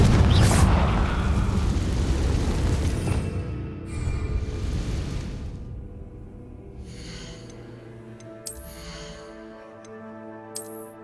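A Confringo fire spell from Hogwarts Legacy on Nintendo Switch erupts in a loud, booming blast with a rumbling burst up front, then fades into lingering crackle and game effects, with a couple of small pops after.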